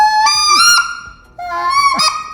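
Two loud, close goose-call notes, each cracking through a clear break like a speckle-bellied goose calling, with a short pause between them and no talk.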